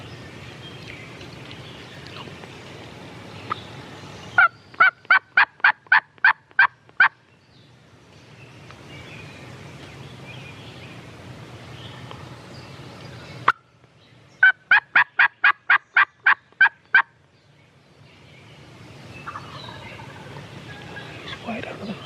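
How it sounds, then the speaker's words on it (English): Wild turkey gobbler in a spring turkey hunt, gobbling in two distinct bursts of rapid rattling notes, each around eight pulses long, sounding fairly clear over quiet woodland background. "The turkey gobbled somewhere."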